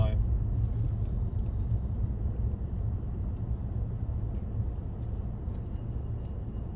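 Steady low engine drone and road rumble inside a moving car on country roads around Shrewsbury, Shropshire, continuous and close, with occasional voices inside the cabin.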